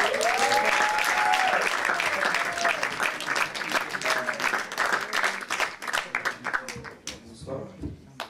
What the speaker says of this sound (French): veuillez applaudir sur scène celui qu'on appelle Victorious Big